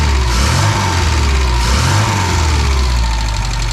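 A classic Mini engine idles loudly and steadily up close after a cylinder head refit, with a light rhythmic clatter of tappets ticking through the low rumble.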